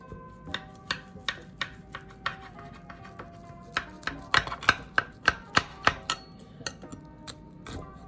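Knife cutting into a baked Jamaican bread pudding with crispy edges, giving a series of sharp close taps against the pan or board, spaced unevenly then quickening into a rapid run before tailing off.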